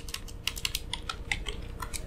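Code being typed on a computer keyboard during a beginner JavaScript lesson, a quick run of light clicky keystrokes in an uneven rhythm, close and soft over a low background hum.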